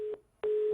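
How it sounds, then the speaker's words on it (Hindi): Telephone line tone on a call-in phone line during a news discussion show after the caller disconnects, two short electronic beeps separated by a brief silence, loud and clear with no voices. "चलिए फोन फिर से डिस्कनेक्ट हो गया"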